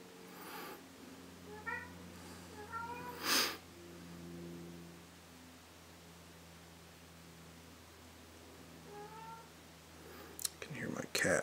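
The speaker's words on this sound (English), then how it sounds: "I can hear my cat whining in the background." A cat whining and meowing in the background of a quiet room, a few short, faint, rising cries spread across the stretch, separated by low hiss and a light sniffing noise.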